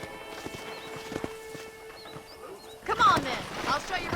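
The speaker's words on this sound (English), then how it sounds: "let's see if you can still ride a horse" Horse hooves clip-clop at a walking pace in the video game Red Dead Redemption. Quiet ambience sits behind the steps, and a louder burst of movement and a whinny-like sound comes near the end.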